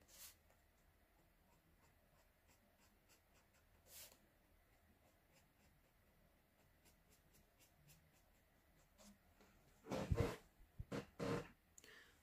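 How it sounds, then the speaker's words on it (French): Strokes of a Fibracolor coloring pencil scratch across paper while filling in a letter A in a mystery coloring page: faint, soft scribbling for most of the time, then a few louder, closer bursts of rapid strokes near the end. "Donc je colorie en traits. Je fais des traits."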